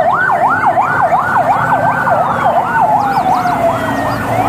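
A loud wailing military ambulance siren rises and falls in a rapid, repeating sweep, close by, with a second fainter siren tone joining partway through.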